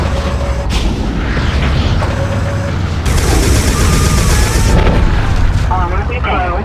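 Lock-on missiles launching and exploding in the 1999 game Recoil, a dense run of booming blasts and rapid fire over a continuous roar, loud and close, with a voice speaking over the action.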